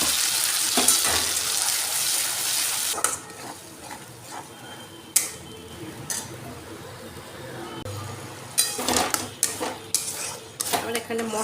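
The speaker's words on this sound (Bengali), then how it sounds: "আমি এরপর এই পেস্টটা যে বেটে রেখেছিলাম সেই পেস্টটা দিয়ে দেব।" Ground spice paste goes into a hot pan for a paneer curry and fries with a steady sizzle, broken by sharp metal clinks and scrapes of a spoon against the pan, close and fairly loud, with no talk.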